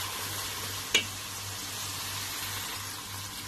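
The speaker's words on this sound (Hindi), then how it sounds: "तो अब मैं इसको अच्छी तरीके से भून रही हूँ" Urad dal is fried in a pan, a low steady sizzle with one sharp utensil tap near the start and gentle stirring throughout.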